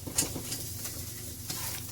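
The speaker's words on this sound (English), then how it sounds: "the egg mixture when it's all done frying" Steady soft sizzling and crackling of eggs frying in a pan, with a few faint scraping clicks, close up and continuous.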